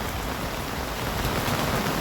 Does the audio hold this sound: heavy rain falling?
yes